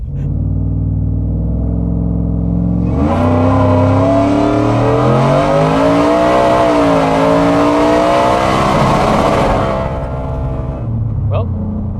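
An 870 hp four-wheel-drive Ford F150 truck idles, then roars hard with rising engine pitch for several seconds, sustained up to the rev limiter, before dropping back to a rumbling idle close by.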